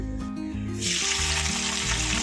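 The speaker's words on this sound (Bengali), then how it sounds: "এবার দেবো পেঁয়াজ কুচি।" Chopped onion hits hot oil in a kadai already seasoned with bay leaf, dried red chili and cumin, setting off a sudden loud, steady sizzle that continues to the end over a low tonal background.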